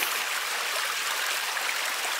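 The river at La Cascada waterfall near Santa Rosa de Calamuchita, Argentina, rushes in a dense, constant broadband roar, close and loud with no breaks or voices.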